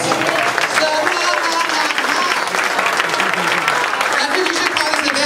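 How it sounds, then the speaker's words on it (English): Stand-up comedy audience applauding themselves, a steady dense round of clapping with cheers and voices mixed in, lasting about five seconds. "A nice big round of applause for yourselves."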